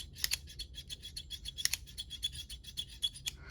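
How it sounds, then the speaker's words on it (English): Squeaky hammer of a Ruger GP-100 revolver being cocked and worked, a rapid series of sharp, close-up squeaks and scraping clicks in quick succession, heard alone. "It's got a super squeaky hammer"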